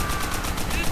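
Rapid automatic machine-gun fire in the World War II shooter Call of Duty: World at War, a brief, dense burst of loud gunfire.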